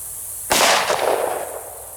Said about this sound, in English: This is a Glock Gen 4 Model 31, and we're loaded up with some Underwood ammo, 147 grain jacketed hollow points.